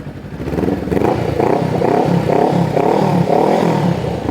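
Honda Rebel 500 bobber motorcycle engine revving: a loud, close, throbbing exhaust with several pulsing throttle rises, alone without talk.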